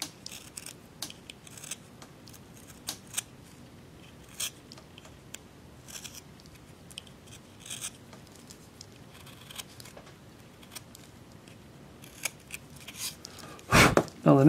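Small knife cuts carving a wooden Gnome house ornament, a series of soft scraping and shaving ticks at close range with irregular rhythm, ending in a louder burst of handling noise.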